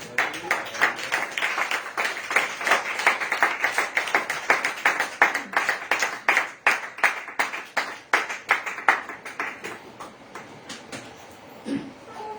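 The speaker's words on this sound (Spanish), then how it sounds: "Denle aplausos al Señor." A church congregation claps together in a sustained burst of applause, steady and dense, gradually thinning out toward the end.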